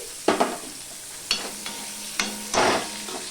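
Onions frying in a pan for a parwal (pointed gourd) dish, a soft steady sizzle broken by a few sharp scraping stirs, close and with no talking.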